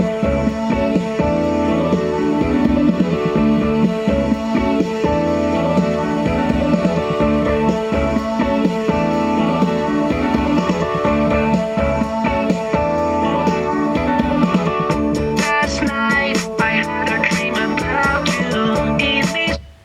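Electronic music streamed over Bluetooth through the stereo of a Saab 9-3, playing loud and continuous with a steady beat and dense layered synths for about twenty seconds before cutting off abruptly.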